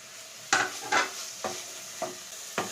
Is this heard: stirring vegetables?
yes